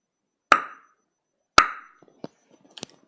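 A mouth-made imitation of a baseball hitting a bat: two crisp, close cracks about a second apart with short tails, followed by a few faint small clicks and pops.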